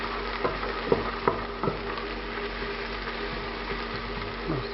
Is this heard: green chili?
yes